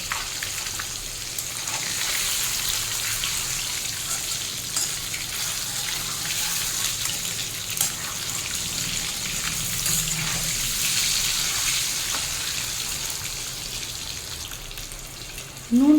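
Boiled eggs fry in hot oil with turmeric, giving a steady, even sizzling hiss that holds close and moderately quiet for the whole stretch.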